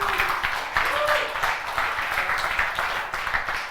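Audience applause at a web development conference talk, a steady dense patter of clapping that fills the whole stretch at moderate loudness, with a voice faintly audible underneath.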